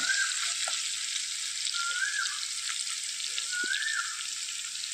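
Garlic, ginger and green chilies sautéing in oil in a pan for a dried prawn and mango pickle, giving a steady bright sizzle with occasional soft scrapes and taps of a spoon.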